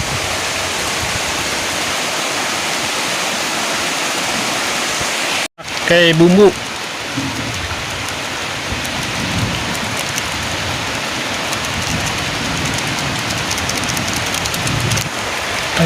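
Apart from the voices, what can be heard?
heavy rain falling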